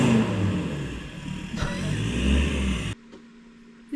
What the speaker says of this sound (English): The Ranger with a 3-inch exhaust did scare it off a bit.